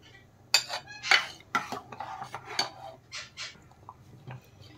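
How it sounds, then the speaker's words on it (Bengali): A spoon scrapes and clinks in a pot while sambar dal made from arhar dal is stirred, giving several sharp metallic knocks and brief scrapes close by, with no talking. "নেড়ে চেড়ে ভালো করে মিশিয়ে দিচ্ছি।"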